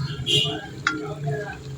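Chicken bubbles and sizzles in a pan, with a brief clink of a utensil partway through; close and moderately loud, no talking.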